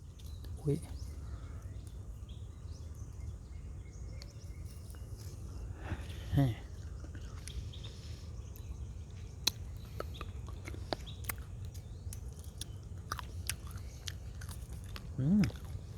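Small sour wild jujube fruit being bitten and chewed outdoors, faint intermittent crunches spread across the clip amid quiet rural ambience with occasional birds and a low voice.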